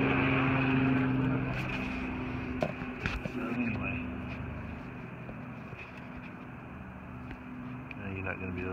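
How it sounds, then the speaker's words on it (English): A low, steady drone of a helicopter passing overhead, fairly loud at first and slowly fading, with faint clinks and handling noises nearby. "There's a helicopter going overhead."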